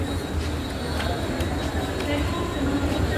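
A Mumbai local train rumbles along the tracks with a steady low roar and faint metallic clatter, heard from inside the carriage at close range, with no talk over it.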